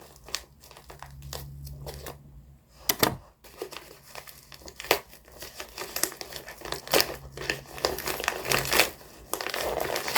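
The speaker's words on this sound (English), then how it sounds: "If the scissors will cut through." Crinkly rustling and crunching of packaging as scissors cut open a book package, with sharp snips and tearing sounds, close by, in irregular bursts.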